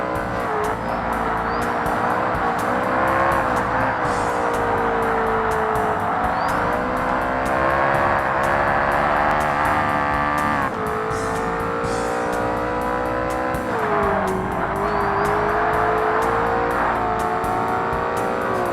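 A Ferrari F50 races in Forza Motorsport (2005), its engine droning and revving steadily with rising and falling pitch as it shifts through gears, loud and continuous throughout.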